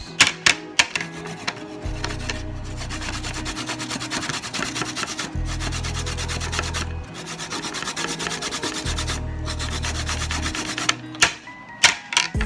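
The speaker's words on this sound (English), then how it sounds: "So I'm grating some carrots." Carrots are grated by hand on a kitchen grater in steady rhythmic rubbing strokes, close and fairly loud, with short pauses between bursts and no talking.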